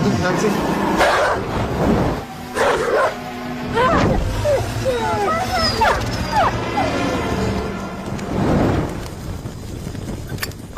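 A dog barks, yips and whimpers in anxious bursts close by, with voices talking over and between the cries and a faint wind in the background.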